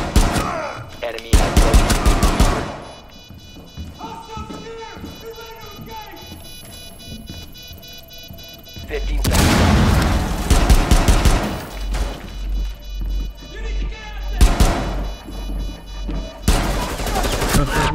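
Gunshots in Rainbow Six Siege: loud clustered bursts of automatic fire at the start, middle and end, separated by quieter stretches of game sounds and faint voices.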